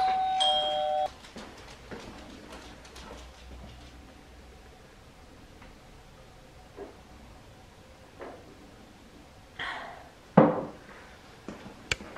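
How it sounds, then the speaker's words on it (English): A single electronic doorbell chime rings out clearly at the start, followed by quiet room ambience with a few faint knocks and clatters. "there's the doorbell"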